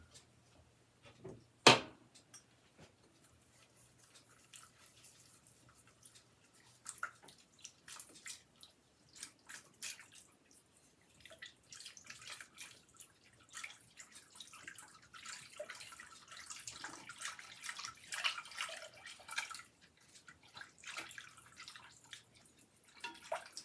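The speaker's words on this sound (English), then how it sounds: "so now we're going to get our milk in there" Milk pours into a pan of cooked flour mixture for a bechamel sauce, making faint, soft liquid splashes and drips, quiet and close, with no talking.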